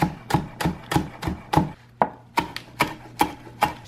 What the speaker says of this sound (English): I'm cutting up onion from the garden.